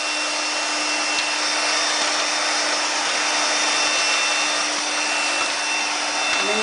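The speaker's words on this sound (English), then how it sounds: "this is where you take the vacuum" Vacuum cleaner running steadily while sucking dirt out of an air purifier, a loud constant whine and airy rush with small scraping bumps as the nozzle moves.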